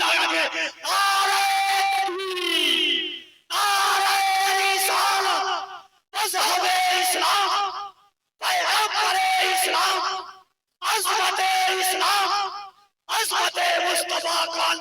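A large crowd at an Islamic religious gathering shouts takbir in unison, five or six loud, drawn-out chanted bursts separated by brief pauses, the voices massed and echoing.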